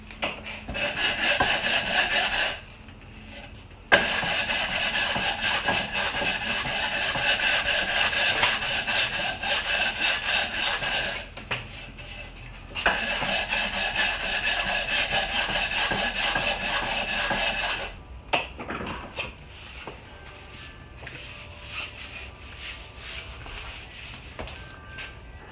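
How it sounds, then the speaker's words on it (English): Steady rhythmic sanding strokes on a fiberglass kayak paddle (Cannon Explorer FX Slide), long runs of scratchy abrasion broken by short pauses, close up with no talking. "So, like I said, what I'm going to do is sand away."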